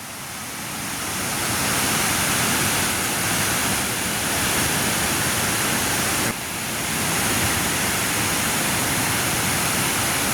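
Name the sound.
rushing released water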